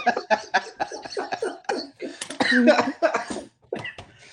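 A person coughs repeatedly in a rapid series of short, throaty bursts mixed with throat clearing and chuckling, close and clear.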